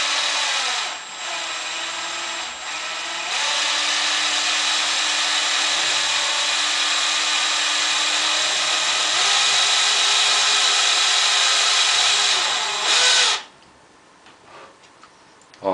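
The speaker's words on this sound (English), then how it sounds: "change the angle of my drill just a little bit once it starts." A power drill boring jet holes into the metal of a homemade pressurized alcohol stove, a steady loud whine held for about thirteen seconds before stopping abruptly, followed by quieter handling noise.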